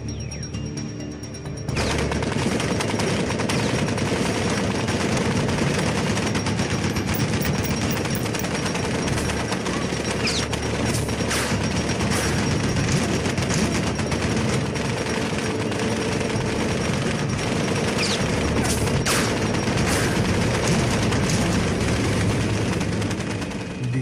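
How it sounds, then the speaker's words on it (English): A heavy machine gun fires on a World War II battlefield in Normandy: dense, sustained bursts of rapid gunfire and fusillade, loud and continuous, with crackling shots layered over a roaring battle din and no voices. "decided to attack the lone sniper with a heavy machine gun"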